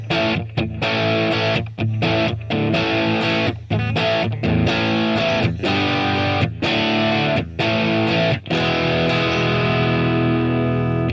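Electric guitar, a Strat with its humbucker selected, played loud through a Marshall Plexi amp patch on a Mooer GE300 multi-effects unit, giving crunchy overdriven chords and riffs with short stops between phrases.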